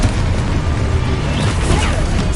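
Explosion spells from the Hogwarts Legacy video game, heard as a dense, loud, continuous roar of booming blasts and crashing debris with no pauses.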